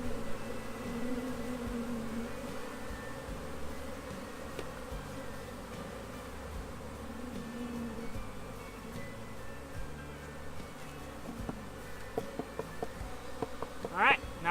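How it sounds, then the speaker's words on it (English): Honeybees buzz around a hive box in a continuous, fairly quiet drone of many wings, with a few sharp handling clicks and knocks near the end. "now we're gonna see if the bees go in the box"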